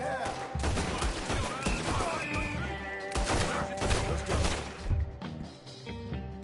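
Dense, continuous video-game gunfire, with rapid overlapping shots and impacts filling the whole stretch, under occasional voices.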